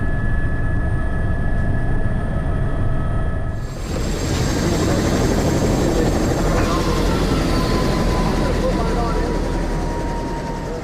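A helicopter hovers ahead of takeoff, its engine and rotor making a loud, steady drone with a whining tone that shifts partway through, while a voice talks over it.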